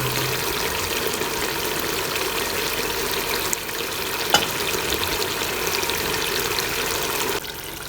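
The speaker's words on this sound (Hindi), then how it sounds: "मज़ीद इसको 10 मिनट भूनते हैं।" Minced meat keema with potatoes fries in a pan, giving a steady, continuous sizzle and crackle with a brief stirring knock partway through and no voices.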